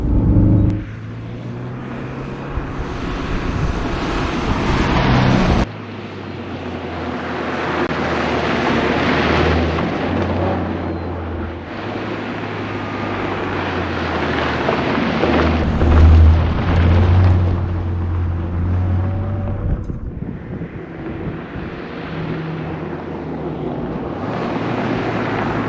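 A 2024 Subaru WRX TR driven off-road with its tail sliding out, a steady engine roar and tire rumble blended with heavy wind buffeting on the microphone, the loudness surging and easing over the run, with no talk.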